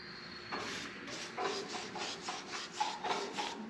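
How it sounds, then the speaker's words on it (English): Paintbrush strokes spreading Rust Bullet black paint over bare body metal near the rear wheelhouse of a 1965 Ford Mustang convertible, a steady series of soft rasping brushes, close and fairly quiet, with no talking. "I'm just brushing this stuff on."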